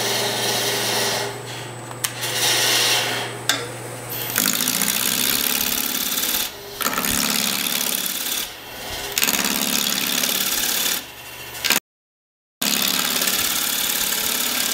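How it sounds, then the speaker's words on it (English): Bowl gouge cutting a cottonwood burl bowl on a lathe: a loud, steady machine drone and rough cutting noise broken by brief pauses and one short silent gap. "I'm going to take a larger bowl gouge and work my way down and profile the bottom."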